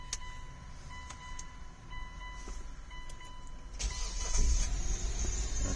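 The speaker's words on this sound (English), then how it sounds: "The idle is really high right now." A 2006 Hyundai Tucson engine idles high with a steady hum and faint whine, then swells louder as it gets some throttle near the end, with a few mechanical clicks along the way.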